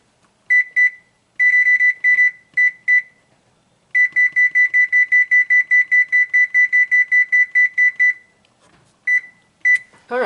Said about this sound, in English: the timer just now went off